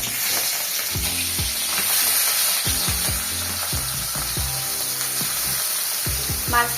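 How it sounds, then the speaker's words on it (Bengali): Shrimp fry in hot oil in a close, steady sizzle, with repeated scraping strokes of a spatula against the pan and no speech. "মাছগুলোকে এবার একটু ভেজে নেব।"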